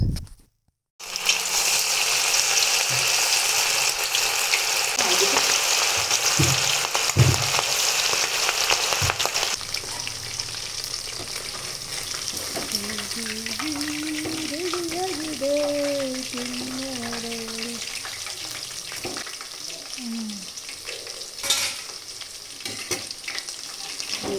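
Steady, loud sizzling of kebabs frying in hot oil fills the whole stretch, with occasional stirring clinks and a voice briefly heard partway through.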